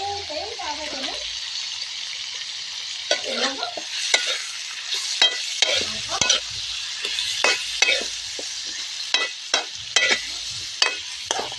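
Native chicken sautéed in a pan for tinola: repeated scraping stirs and clattering spoon strokes over a soft sizzle, with a brief voice near the start.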